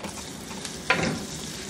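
Chopped garlic and grated ginger fry in oil over lower-medium heat, a steady soft sizzle with a brief stir or clink near the end, close and alone.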